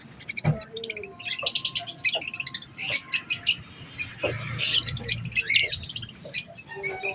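Small African lovebirds at a bird market in San Carlos, Pangasinan chatter in a dense run of sharp, high squawks and chirps, several birds calling over one another close by, with a few faint voices underneath.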